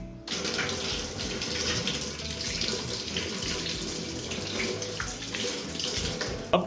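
Two tomatoes rinsed under a running kitchen tap, a continuous close gush of water splashing over them and into the sink for several seconds, with a small clunk at the end.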